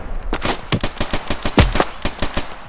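Rapid video game gunfire rattles out in dense, loud bursts of closely spaced shots, with one heavier blast near the middle and no talk over it.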